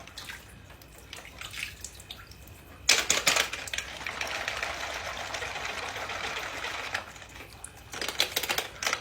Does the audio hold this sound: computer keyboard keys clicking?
yes